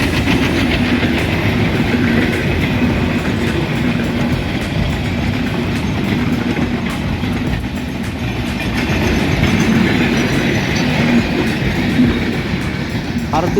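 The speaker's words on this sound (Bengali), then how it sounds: "727 আপ রূপসা এক্সপ্রেস এই মুহূর্তে ছুটে যাচ্ছে সিলাহাটি অভিমুখে" The 727 Up Rupsa Express, a Khulna to Chilahati passenger train hauled by a 6541-series locomotive, rumbles past close by with steady clattering wheels and a sustained roar, with faint voices underneath.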